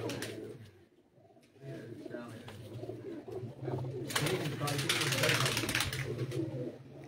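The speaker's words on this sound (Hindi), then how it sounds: "एक चैंपियन खिलाड़ी की चैंपियन ब्रीड के जो तैयार कबूतर है उनका मैं आपको शो करवा देता हूँ" Champion-breed pigeons cooing on a rooftop loft in Kandian, soft repeated coos under a low background murmur, with a burst of brighter fluttering or rustling in the second half.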